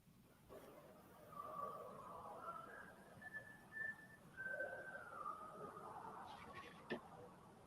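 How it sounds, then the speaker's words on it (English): A faint, thin whistle drifts through a quiet hallway recording during a ghost hunt, a wavering held tone with a few rising and falling phrases over low background hiss. "We captured this disembodied whistle."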